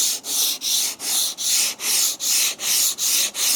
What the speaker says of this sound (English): I'm using 100 grit sandpaper here